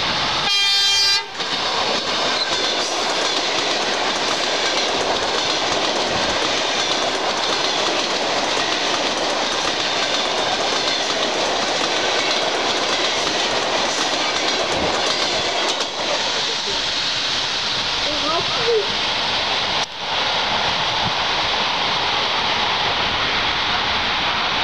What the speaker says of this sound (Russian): Внимание, поезд по второму пути из Брянска.